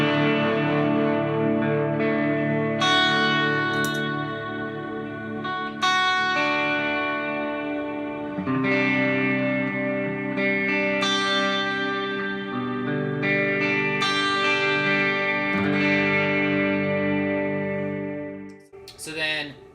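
Clean electric guitar tone through a Boss MS-3 with a Morning Glory drive, compressor and reverb, a steady played chord-and-melody passage with sustained, ringing notes, close and continuous, ending with a brief handling noise.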